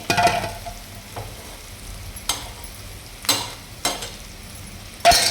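Slices of raw banana frying in hot oil, a steady low sizzle broken by several sharp stirring scrapes and clatters, close and fairly loud with no talking.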